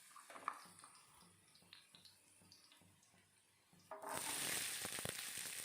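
Garlic frying in sesame oil, starting as a quiet, faint crackle with scattered pops before breaking into a steady, louder sizzle.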